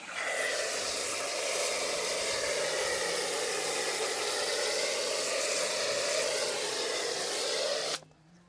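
Brake Buster wheel cleaner sprays onto a car wheel in one long, steady hiss that runs for about eight seconds and then cuts off abruptly.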